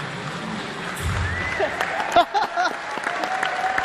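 Concert crowd applauding at Video Games Live in Dundee, a steady wash of clapping throughout with a few sharper bursts and cheers rising partway through.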